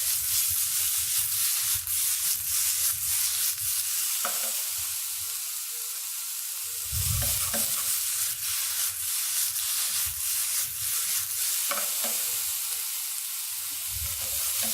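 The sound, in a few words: stir frying fiddleheads with garlic in a pan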